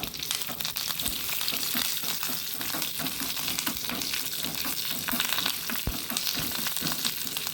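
Mustard seeds, curry leaves and chili spatter and crackle in hot oil, tempering for a Mangalorean summer sambar, making a dense, steady sizzle up close with scattered sharp pops throughout.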